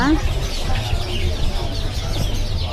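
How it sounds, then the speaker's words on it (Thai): Thai bantam chickens in a cage at a poultry market stall cluck and call close by, mixed with busy market noise and people talking throughout. "กรงนี้ก็จะเป็นไก่แจ้ไทย"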